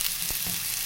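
Onions fry in ghee in a pan, a brief, steady sizzle with a couple of soft stirring taps.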